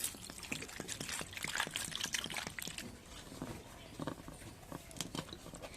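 Salt-scrubbed oranges are rinsed under water, giving a soft, continuous trickle and splashing with scattered small taps and knocks, fairly quiet and close.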